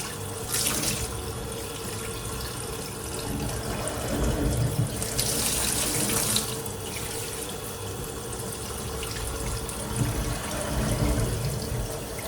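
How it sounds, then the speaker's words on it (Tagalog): Hot water runs from a tap and splashes steadily into a container, a continuous close, moderately loud stream with brief louder surges and no talk. "Ngayon mainit na tubig, pwede na tayo maglagay ng tubig."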